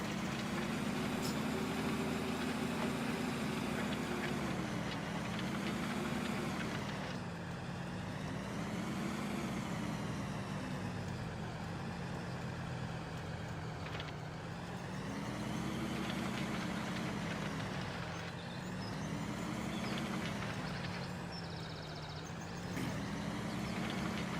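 Farm tractor engine held at full throttle while climbing a slight grade at about 9 mph in light rain, a steady loud drone with slowly wavering pitch throughout, no talking.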